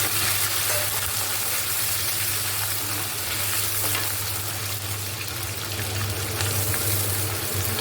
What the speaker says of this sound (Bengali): তেলের মধ্যে একটুখানি একটা ছোটো ক্যাপসিকাম কেটে রেখেছিলাম সেটা দিয়ে দিলাম